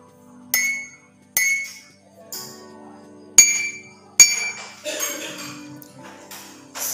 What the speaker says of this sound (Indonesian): lalu kita akan mengetuk gelas kedua dan ketiga.